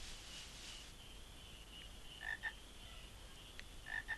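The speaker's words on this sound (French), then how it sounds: "Les grenouilles sont par là, miam." Frogs croak in Final Fantasy IX: a few short, clear, bright croaks in quick pairs, heard alone over a faint, steady ambient hum.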